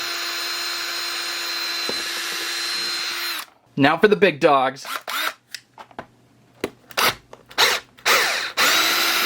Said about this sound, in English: drilled a hole into the top of our spawn egg